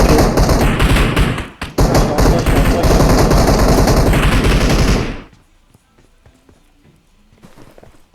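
Rapid automatic gunfire in a shooter video game, loud and continuous bursts of shots with a brief gap, then cutting off to quiet game ambience with faint taps.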